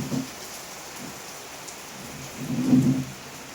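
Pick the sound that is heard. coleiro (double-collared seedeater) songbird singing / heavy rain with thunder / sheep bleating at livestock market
heavy rain with thunder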